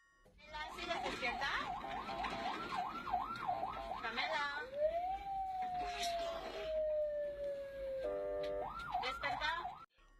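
An ambulance siren rushing a patient to hospital wails up and down rapidly, then shifts to a long, slowly falling steady tone before returning to the fast wail. It sounds fairly close and loud, with a voice talking over it at times.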